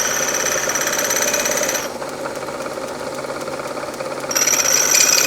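A metal lathe spinning at about 2,000 rpm while a drill bit is sharpened against a stone, giving a steady loud mechanical whir with high grinding hiss that drops back to a quieter hum midway, then swells again near the end.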